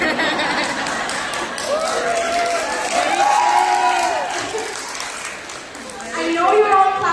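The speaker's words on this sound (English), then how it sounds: "I know you're all clapping" An audience at a speech claps and murmurs while voices talk and laugh over it, the applause rising again toward the end.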